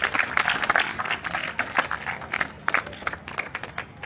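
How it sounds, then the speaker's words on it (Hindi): Applause from a school assembly audience welcoming guests at a district-level youth panchayat event, a steady patter of many hands clapping with crowd noise, fairly close and moderately loud throughout. "सबने एक बार जोरदार तालियों से इनका स्वागत करना है"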